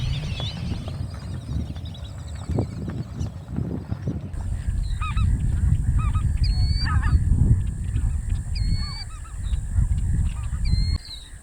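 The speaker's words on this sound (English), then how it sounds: "So, lesser snow geese, greater white-fronted geese" A large, noisy flock of lesser snow geese and greater white-fronted geese honks repeatedly in winter in Louisiana, with overlapping calls against a steady outdoor rumble.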